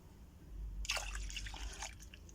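A cup of milk pours into a dish for a sweet potato bake with béchamel, cream and nuts, a brief close splashing trickle lasting about a second.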